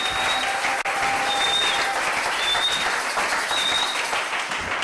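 Steady audience applause fills a church or sermon hall at a motivational preaching event, dense continuous clapping at a fairly loud, even level throughout with no voice heard.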